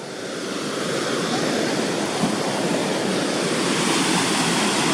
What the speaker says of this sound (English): These rapids are flowing